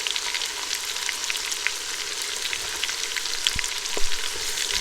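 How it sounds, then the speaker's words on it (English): Onions cook in hot butter in a pan for a Thanksgiving meal, giving a dense, even sizzle that holds steady and close the whole time, with a couple of soft knocks near the end and no voices. "I want to drop some butter in here because I'm going to cook some onions"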